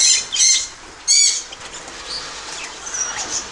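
Budgerigars taking flight from a breeding flock, two sharp bursts of wing flapping close by, then faint chirps and rustling as the birds settle.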